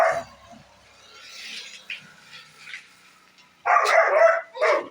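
A dog makes noise in a village home as people head from the kitchen outside, with short yips and a louder burst of barking near the end over quiet background.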